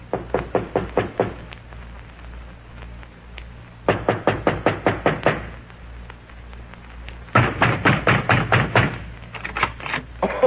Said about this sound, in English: I knock at the door